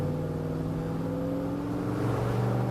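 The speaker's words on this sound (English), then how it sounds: "Start with some light throttle upshifts and feel for the 1-2," A car with a 700R4 automatic transmission pulls away under light throttle, its engine giving a steady droning hum that climbs slightly in pitch and swells toward the end.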